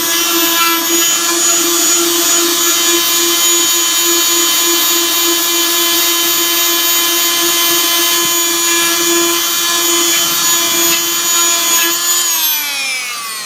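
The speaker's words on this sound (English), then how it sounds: "This particular rasp is actually designed for cutting grout." A loud, steady high-pitched buzzing whine of a Fein oscillating multi-tool with a grout rasp running continuously, winding down at the very end.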